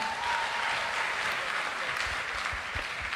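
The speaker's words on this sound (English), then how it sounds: "You can clap for them." Wedding guests applaud a couple right after they exchange vows, a steady, even wash of clapping from a crowd that fills the room throughout, fairly soft in level, with faint voices mixed in.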